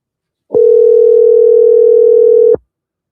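A steady telephone dial tone, one loud unbroken electronic hum that starts abruptly, holds evenly for about two seconds, then cuts off cleanly, with nothing else around it.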